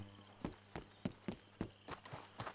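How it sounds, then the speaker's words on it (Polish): A horse walks in Red Dead Redemption 2, its hooves clip-clopping in a steady, evenly spaced rhythm of about eight distinct beats, fairly close, with no voices over them. "Strasznie dużo koni tu jest, nie?"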